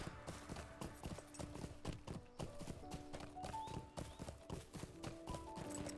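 A horse's hooves clip-clop in a video game in a quick, regular trot, close and steady throughout, with soft game ambience behind.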